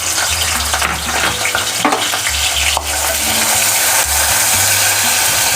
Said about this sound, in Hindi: इसमें अब मैं प्याज फ्राई कर लूँगी